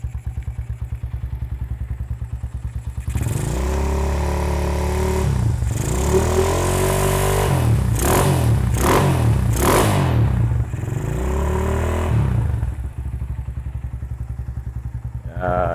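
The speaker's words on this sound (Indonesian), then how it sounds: "Suara knalpotnya pekajaman itu begini" Modified Honda CB motorcycle, freshly rebuilt with a rough-running engine, roars through loud exhaust blips and revs after a quieter idle, rising and falling in several surges close to the mic before settling back to a steady rumble.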